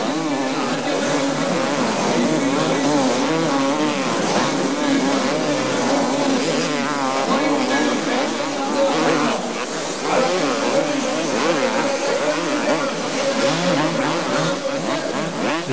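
Supercross motorcycles race and accelerate, engines droning and revving in dense overlapping layers at steady loud volume, with a voice talking over them much of the time.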